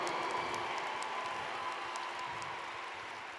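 Audience applause at a Catholic worship concert at a youth camp: a dense, steady wash of clapping from a large crowd, sustained throughout and tapering slightly toward the end, with no speech over it.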